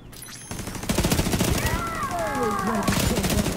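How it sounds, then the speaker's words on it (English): Rapid automatic fire from a deployable turret in The Division 2 rattles in dense bursts, loud and close, with whistling ricochet-like tones sweeping through the middle of the volley. "Let's try the turret."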